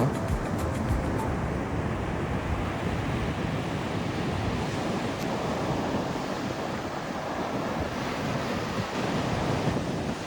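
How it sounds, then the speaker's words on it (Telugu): Wild sea waves crash on the beach at Antarvedi during Cyclone Montha. A loud, continuous roar of surf blends with gusting wind buffeting the microphone, with no pauses. "వేవ్ సౌండ్స్ అయితే చాలా వైల్డ్గా ఉన్నాయి వేవ్స్ కూడా స్ట్రైట్ రావట్లేదు రైట్కి వెళ్తున్నాయి"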